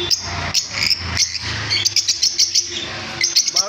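Pet lovebirds, including white and blue birds, chirping in rapid sharp bursts at close range, with repeated tweets throughout.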